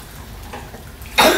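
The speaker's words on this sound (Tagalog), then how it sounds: "Bakit inuubo ako?" A single sharp cough bursts out near the end, loud and close, after a stretch of quiet room noise.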